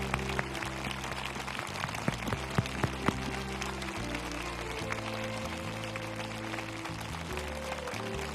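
An audience at a peace prayer concert bursts into sustained applause, a dense wash of many hands clapping at once, steady and full throughout, with a few sharper claps standing out near the front.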